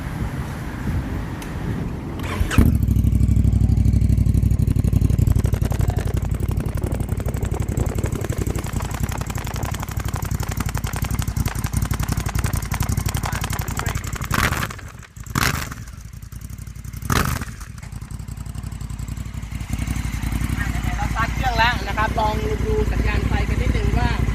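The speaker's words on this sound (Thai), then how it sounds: "ปลายจะเป็นปลายคาร์บอนมีเชฟสองรูแบบนี้ นะครับเดี๋ยวฟังเสียงกันนิดนึง" A Honda Africa Twin motorcycle engine with an Akrapovic carbon-tip twin-hole exhaust idles loud and close, a steady throbbing rumble with a couple of brief dips and blips, while someone talks over it.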